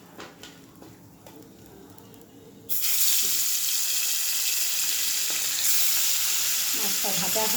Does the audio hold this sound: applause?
no